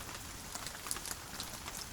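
Steady rain falling outdoors, a soft continuous hiss with faint scattered droplet ticks, quiet and even throughout.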